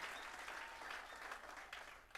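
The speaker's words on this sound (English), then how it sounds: "Let's clap for Reverend Kim." An audience claps for Reverend Kim at a youth student gathering, a brief, fairly faint burst of dense applause that fades toward the end.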